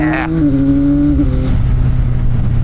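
A CFMOTO 675NK three-cylinder motorcycle engine revs up into its mid-range, giving a loud, rising drone that settles into a steady sustained pull, with a voice briefly audible over it.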